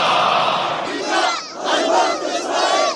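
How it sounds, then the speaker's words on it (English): Massive protest crowd in Sana'a, Yemen, chanting and shouting in unison against strikes, a dense, loud roar of many voices that swells and dips in rhythmic waves throughout. "In Yemen's capital, Sana'a, massive crowds coming out to denounce the strikes and to express solidarity with Gaza."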